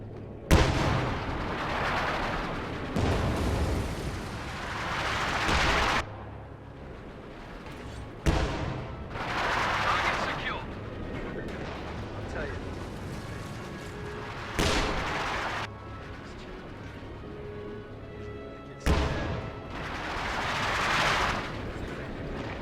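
Artillery and indirect fire traded across a video game battlefield, with pack howitzers and infantry support guns firing: repeated heavy booming blasts every few seconds, each with a rumbling tail, spread over a continuous low roar of battle and no talking.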